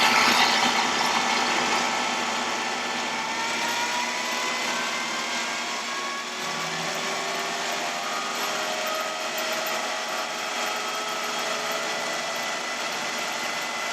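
Generator number 36 runs steadily and close by in a continuous mechanical drone. Its pitch drifts and shifts slightly as the engine speed is varied, with no talking.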